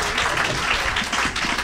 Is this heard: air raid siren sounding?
no